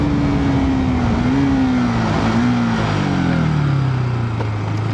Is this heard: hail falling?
no